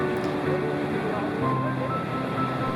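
Niagara Falls roars as a dense, continuous rush of falling water, loud and steady without a break, with some low tonal hum mixed into the wash.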